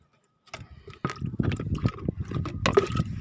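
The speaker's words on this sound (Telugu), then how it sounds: "ఇప్పుడు దీంట్లో కూడా కొంచెం నీళ్ళు కలుపుతానండి" Water poured into a thick aloe vera mixture, a loose, continuous liquid splashing and trickling that starts after a brief silence and carries on unevenly at close range.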